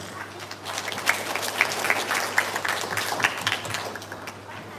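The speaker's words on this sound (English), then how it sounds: "let us give another round of applause" Dense audience applause after a speech at a national 4-H public speaking competition for primary schools in Dominica, a continuous wash of clapping with scattered louder claps over a low steady hum.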